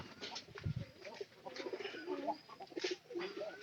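Several pigeons in an indoor loft keep up a steady, close chorus of soft, throaty cooing with occasional chirps, heard on their own with no talk.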